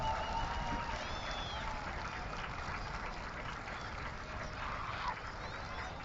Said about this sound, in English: Blaha getting that standing ovation from the crowd